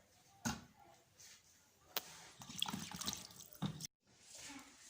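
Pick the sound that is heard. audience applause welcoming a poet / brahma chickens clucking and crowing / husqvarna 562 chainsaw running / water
water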